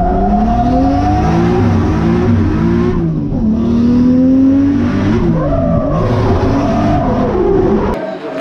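A custom drift car's engine revs hard and continuously at a drift competition, pitch rising and falling with throttle changes, loud and close, with tires scrubbing underneath.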